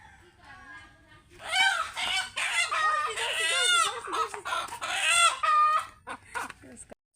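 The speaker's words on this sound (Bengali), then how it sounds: "সো ফাইনালি আমি মুরগিটাকে ধরে ফেললাম" A village rooster clucks and squawks loudly in repeated agitated bursts while being caught, close by, with short pauses between calls.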